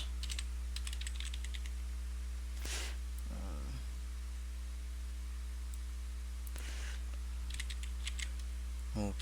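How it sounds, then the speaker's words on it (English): Short runs of keystrokes on a computer keyboard, with clustered bursts of clicks separated by pauses, set against a steady electrical hum and hiss. "Just type Y for yes, and then press enter, then type your email address."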